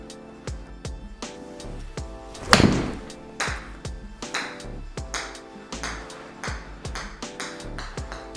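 A golf club striking a Member's Mark golf ball outdoors makes one sharp, loud impact that stands out above a steady run of rhythmic ticking and tapping.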